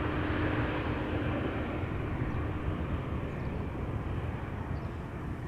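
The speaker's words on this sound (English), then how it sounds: "looks like a triple in the Sky Team livery. Yeah, it's the bouncy 777 probably." Boeing 777 airliner in SkyTeam livery at Amsterdam Schiphol Airport, its engines giving a steady, broad roar that holds loud and even throughout with no voices.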